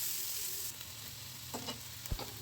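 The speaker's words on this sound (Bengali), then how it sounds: "আলু আর শিমের কাঁচা ভাবটা যাতে না থাকে এই জন্যই একটু কিছুক্ষণ" Potatoes and beans stir-fried with salt in a wok, a quiet steady sizzle with a few sharp spatula knocks and scrapes toward the end.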